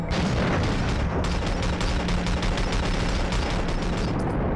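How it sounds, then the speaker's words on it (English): Grenade blasts and gunfire from James Bond 007: Agent Under Fire, a dense, continuous barrage of booming explosions and rapid shots that stays loud for several seconds with no talking. "We already know there's a guy throwing grenades."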